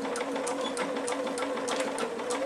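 Sewing machine stitching jersey fabric for a child's neck scarf, a steady close mechanical whir with fast regular needle ticks throughout, no talk.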